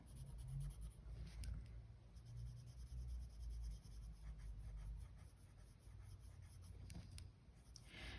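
Colored pencil scratching steadily across paper at an awkward angle, a close, soft continuous rubbing with brief pauses and stroke changes, heard alone without talk.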